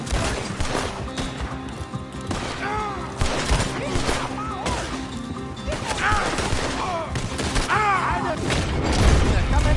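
Rapid bursts of video game gunfire crack repeatedly through a PS4 shootout, mixed with thuds and impacts as game characters shout over the chaos throughout.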